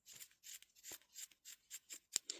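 Scissors snip repeatedly into the fabric seam allowance along the curves of a sewn rabbit-ear headband piece, a quick run of about ten close, crisp cuts at a steady rhythm.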